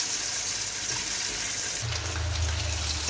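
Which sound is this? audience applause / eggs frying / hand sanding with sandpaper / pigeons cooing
eggs frying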